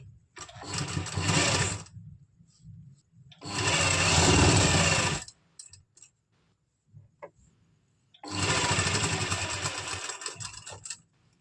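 A sewing machine stitches a sleeve of a lined party-wear suit in three separate bursts of steady running, with near-silent pauses and faint handling between them.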